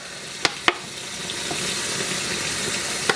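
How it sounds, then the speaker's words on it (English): Tap water running into a sink for rinsing dyed yarn, a steady close hiss of flowing water broken by a few sharp clinks. "Well, I'm going to add some water to the detergent."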